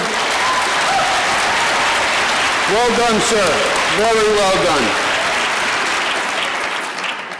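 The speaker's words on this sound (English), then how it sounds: "let's have a big round of applause" Loud, sustained applause from a large audience at a state of the state address held at a community college in Queens, continuous clapping throughout while someone speaks briefly over it.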